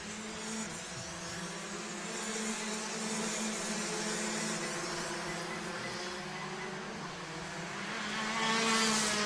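Rotax karts, including DD2 and Masters classes, race around a track at a national championship, their engines droning steadily and continuously with a slight swell near the end, heard without talk.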